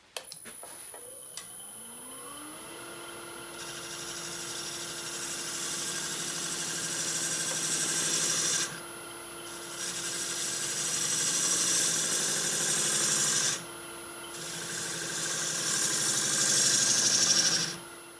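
Woodturning lathe spinning a branchy butternut log while it is rounded, a steady whirring motor hum with a high whine, broken twice by short dips as the tool cuts, fairly loud and close.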